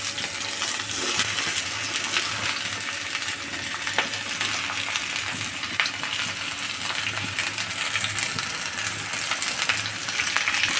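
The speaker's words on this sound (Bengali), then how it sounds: "ঢেঁড়সটাকে দিয়ে দিলাম তেলে।" Cut okra frying in hot oil in a pan, a dense continuous sizzle with small crackles and pops throughout, close and loud with no talking.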